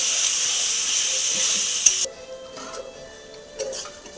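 Spice paste with turmeric and salt, loosened with a little water, stir-fries in hot oil with a loud steady sizzle that suddenly drops to a softer hiss, broken by a few scraping stirs.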